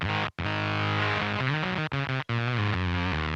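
An electric guitar runs through an NRG Effects boutique pedal with a heavy noise gate, playing distorted sustained notes that cut abruptly to silence as the gate closes, then a short descending run.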